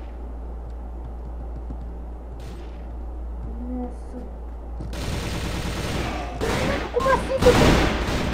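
Video game gunfire breaks out partway through, with dense bursts of shots and loud impacts building toward the end, while a player talks over the action.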